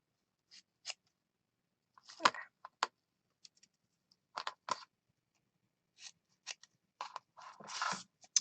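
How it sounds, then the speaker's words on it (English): Scissors snip paper for a Christmas junk journal in a series of short, close cuts, some single and some in quick runs, separated by pauses and mixed with light handling and rustling. "I'm just cutting this with little tails."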